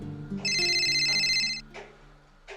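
A mobile phone ringtone chimes loudly for about a second in a Bangladeshi rickshaw scene, a bright repeating electronic melody, with faint background sounds before and after.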